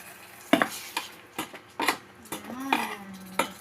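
Utensil stirring and sautéing ingredients in a pan at home, a series of sharp metallic scrapes and clinks at irregular intervals with a soft sizzle underneath, close and fairly loud.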